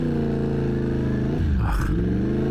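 An Audi car idles and creeps along in traffic with a constant engine hum, while a deeper rumble swells and falls midway as a vehicle passes close by.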